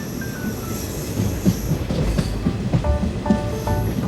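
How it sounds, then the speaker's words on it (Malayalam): A passenger train runs on rails on a trip to Kochi, heard from inside as a loud continuous rumble with rhythmic wheel clatter and brief high metallic squeals toward the end. "അങ്ങനെ ട്രെയിൻ മൂവ് ചെയ്യാനായിട്ടുണ്ട്."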